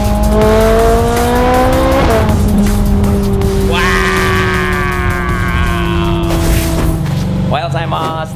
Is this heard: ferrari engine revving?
yes